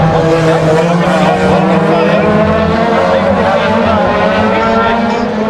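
Race cars lapping Aldershot Raceway during a Fast & Furious round, engines droning loudly and continuously with overlapping roar, under a commentator's steady voice.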